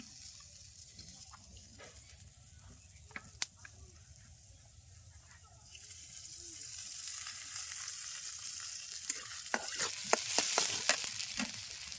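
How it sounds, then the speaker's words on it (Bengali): Onion and green chilli frying in a pan in a village kitchen during heavy rain, a soft sizzle that grows louder and busier halfway through, with scattered clinks and scraping. "পেঁয়াজ আর মরিচটা হালকা ভাজা হয়ে গেছে"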